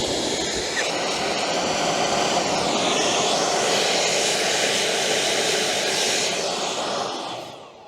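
An EGO cordless leaf blower roars at full power, a loud steady broadband whoosh held for about seven seconds before tapering off at the end.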